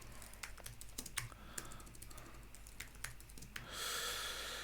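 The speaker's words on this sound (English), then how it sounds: "Trying to type too quick." Rapid typing on a computer keyboard while writing code, a quick irregular run of close, crisp key clicks and clacks, faint and without speech, ending in a brief burst of broadband noise.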